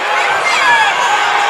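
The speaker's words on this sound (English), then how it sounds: "this crowd behind us really wants them to call something" A high school boys' basketball playoff crowd roars and shouts in a dense, loud wash of voices. The roar holds steady through the moment with whoops and cries rising above it.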